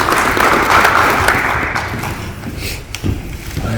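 A room audience gives a round of applause at a health talk, a dense broadband patter of clapping that is loud at first and gradually thins out toward the end.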